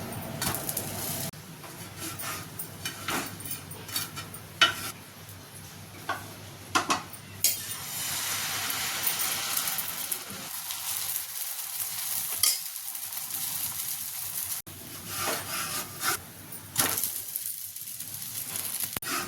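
A jowar (sorghum) dosa sizzles on a hot pan, a steady close frying hiss broken by sharp scrapes and metal taps as it is flipped, with the sizzle swelling after the turn.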